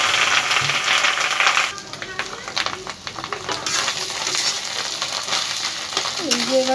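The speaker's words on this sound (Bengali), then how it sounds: "মাছের ডিমটা এবারে ভেজে নিচ্ছি" Fish roe frying in hot oil with whole spices, five-spice seeds and bay leaves for a katla fish roe and pointed gourd curry; a steady loud sizzle runs throughout, with clinks of stirring and scraping in the pan.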